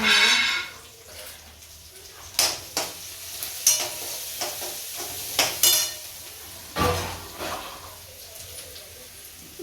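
Onion with turmeric and a little chilli frying in a pan, a steady sizzle broken by repeated scraping stirs and clinks of a spoon against the pan.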